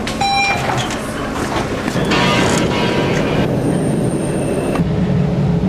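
A subway train approaches through the tunnel at Oak Grove station, a loud sustained rumble with squealing wheels and metallic screeches that shift and fade over several seconds.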